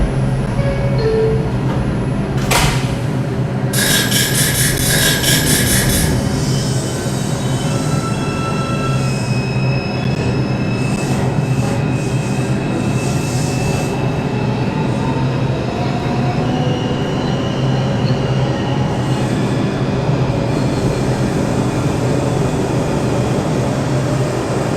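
An MTA NYCT R142 subway train on the 5 line rumbles steadily along the IRT mainline in Brooklyn, with constant loud wheel and motor roar, a brief chime and high whining tones rising and falling.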